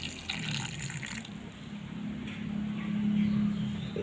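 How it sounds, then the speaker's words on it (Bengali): Water is poured in a small amount over raw fish in a home kitchen before cooking, a soft, short trickle and splash, fairly faint with a low background hum. "অল্প পরিমাণে একটু পানি দেব"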